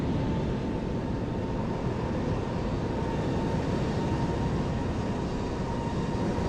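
A Lufthansa Airbus A320neo airliner in Microsoft Flight Simulator 2020, planespotting at London Heathrow, gives off a loud, steady engine roar with a faint sustained whine, unbroken and without talk.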